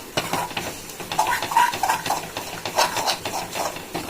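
Chili powder and spices are stirred and fried in oil in a pan for squid pepper fry, with repeated close scraping and clinking of a spoon against the pan over a light sizzle.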